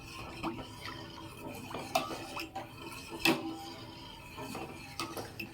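Soaked sago poured into milk in a cooking pot and worked in with a spoon for javvarisi semiya payasam, giving close clinks, scrapes and wet stirring knocks in an irregular run, with no one talking.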